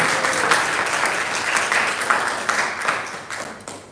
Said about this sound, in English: let's give a round of applause for all the host families.